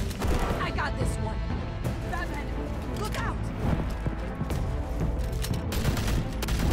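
Bursts of machine-gun fire and impacts crackle through a fight in the Batman Telltale Series video game, loud and busy throughout, mixed with voices talking over the action.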